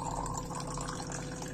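Water fills a bottle from a household water filter, a steady faint trickling and gurgling stream that continues evenly without pause.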